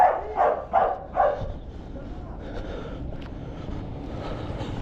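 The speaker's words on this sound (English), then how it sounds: "Fucking dog was not vibing with me." A dog barks four times in quick succession at the start, loud and close, then falls quiet over a steady outdoor background hum.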